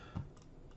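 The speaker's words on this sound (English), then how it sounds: "typing my bill number, hitting search" Typing on a computer keyboard while entering a bill number into a legislative bill search, a few soft key taps with one louder press near the start, close and quiet, no voices.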